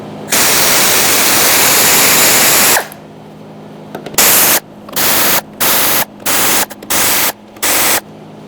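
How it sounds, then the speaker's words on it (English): An air ratchet fitted with an 8mm socket backs out bolts on a 2002-2006 Toyota Camry fuel tank: a long, loud pneumatic whir of about three seconds, then a pause and roughly six short, even bursts close by. "Using an 8mm socket, we're going to take out these bolts. Don't use battery-powered tools when you do anything with fuel. I'm using an air ratchet."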